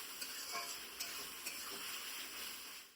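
Thinly sliced onions fry in a pan for a Bengali mutton curry, giving a steady close sizzle with a few light stirring clicks and taps throughout.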